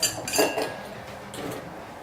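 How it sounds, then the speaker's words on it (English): Ice cubes dropped into a cocktail mixing glass while preparing a rye Manhattan, giving a quick cluster of close glassy clinks and rattles, then a second softer clatter a moment later. "we're going to go ahead and put some ice in our mixing glass"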